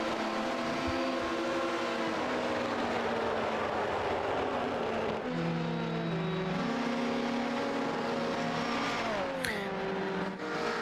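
Engines of GTE race cars, two BMWs and a Corvette among them, roaring around the Le Mans circuit in a sim race, a steady loud drone with gear shifts and pitch sweeps as cars pass close by.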